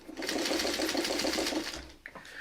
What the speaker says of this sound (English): So much easier to sew.